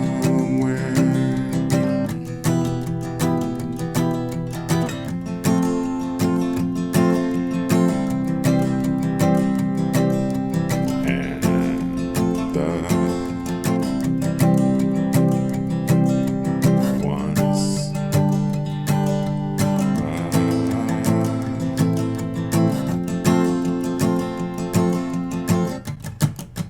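An acoustic guitar strummed through the verse of a song, steady rhythmic chords ringing continuously and close, with no voices.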